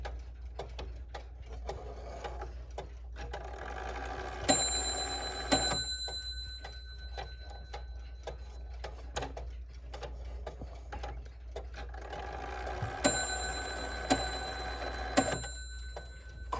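A quiet F.C. Andrews Ogee mechanical clock ticks steadily, with two bursts of ringing strikes that chime several times and linger, no one speaking.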